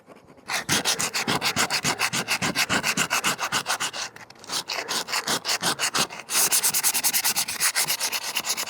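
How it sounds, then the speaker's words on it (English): Sandpaper rubs back and forth over the surface of a homemade solar panel mounting bracket in fast, even strokes, loud and close, with two brief pauses between runs. "Okay, now for a little sandpaper."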